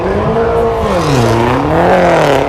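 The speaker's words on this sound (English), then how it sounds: "Now we've got a Mini on the line now, but this is one of these BMW Mini 51 series." A first-generation supercharged BMW Mini race car idles and revs loudly at a race start line, its engine note rising and falling steadily and close by throughout.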